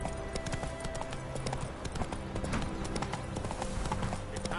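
Roach the horse gallops steadily in The Witcher 3, a continuous run of close, rhythmic hoof clops over a busy game soundscape with faint background voices.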